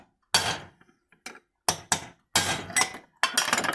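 Hammer blows knock the lower bearing out of an Electrolux 8 kg washing machine part clamped in a vise: about six loud, sharp metallic strikes in uneven bursts, close up, with no talking.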